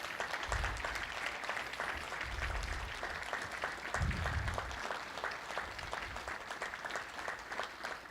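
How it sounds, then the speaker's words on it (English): A crowd applauds at an Army association event, broad even clapping that carries on without a break, with a few low thumps underneath. "Can we give him a warm round of applause?"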